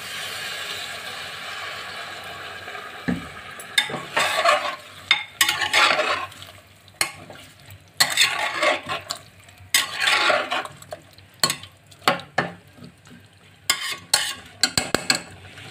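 Water goes into a frying pumpkin curry with spices and vegetables in a home kitchen, followed by irregular bursts of a spoon scraping and clattering against the pan over a soft sizzle.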